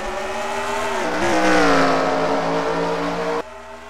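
Stock cars race at Watkins Glen in a video game, a loud steady engine roar with a rising revving pitch as cars accelerate, cutting off abruptly near the end.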